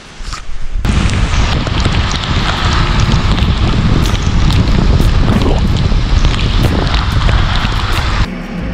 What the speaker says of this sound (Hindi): तो गाइस बारिश हो रही है